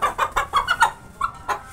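An Aseel hen clucks in a quick run of about seven close, loud, clipped notes, with a short pause before a final pair, alone with no talk.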